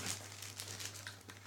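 Plastic packaging around a diamond-shaped ice cube mould gets torn and crumpled up close, a quick burst of crinkling and ripping over a steady low hum.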